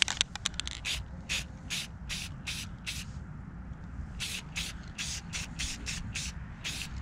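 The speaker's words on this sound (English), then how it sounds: "paint and primer, so I'm just gonna spray it" Quick repeated bursts of spray paint and primer hiss from an aerosol can onto a minibike frame, short sharp spurts in a loose rhythm, close and fairly loud.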